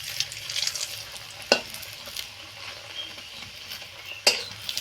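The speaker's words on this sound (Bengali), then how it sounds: "পরোটা একদম ধিমে আঁচেই ভাজতে হবে" A flipped potato paratha frying slowly in a little oil in a kadai over low heat, a gentle steady sizzle with two sharp utensil scrapes.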